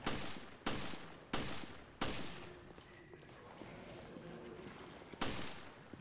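Gunfire in the video game Resident Evil Revelations: five loud, sharp shots land at uneven intervals, the first four close together and the last after a longer pause, over a low, hollow ambient rumble.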